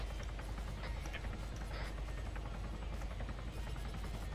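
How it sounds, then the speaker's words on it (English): Military helicopter lifting off in Arma 3: a steady rotor drone and hum, constant and fairly loud, with faint scattered thuds in the background. "Chopper taking off"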